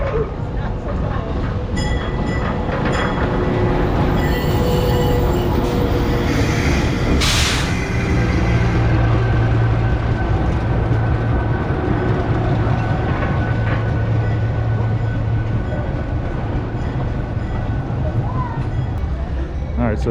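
Georgetown Loop Railroad engines rumble and roll past on the track in Colorado, a steady low mechanical drone with rail clatter lasting throughout, fairly close, while people talk over it.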